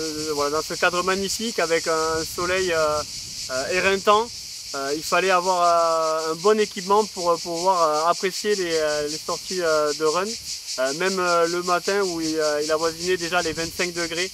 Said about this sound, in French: il y a les cigales qui chantent et il y a le vent qui souffle